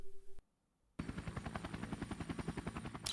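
In the video game Neofeud, a helicopter's rapid rotor chop pounds in a fast, steady rhythm with gunfire mixed in. It starts suddenly after a brief silence and stays loud until it cuts off at the end.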